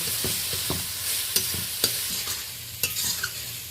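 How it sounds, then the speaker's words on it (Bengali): Spice masala with cumin and coriander powder frying in oil, a steady close sizzle under repeated spoon strokes scraping and tapping the pan in an uneven rhythm, no talking. "3-4 মিনিট ধরে আমি ভালো করে মশলাটা কষিয়ে নিয়েছি।"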